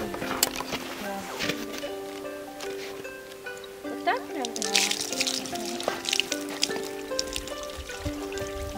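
Water from a village hand pump trickles and splashes softly while people talk over it and someone drinks from the flow.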